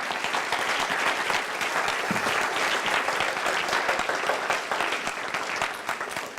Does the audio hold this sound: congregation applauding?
yes